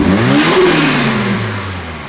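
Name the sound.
Toyota GR86 with HKS turbo kit revving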